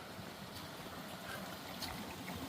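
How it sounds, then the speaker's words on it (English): A small babbling brook beside an Appalachian Trail footpath gives a steady, soft wash of trickling water throughout, with no voices. "it's kind of nice having this little stream follow along"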